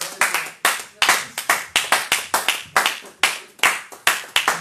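A church congregation claps and applauds loudly in a worship service, bursts of rhythmic clapping repeating in quick waves close by with no talk.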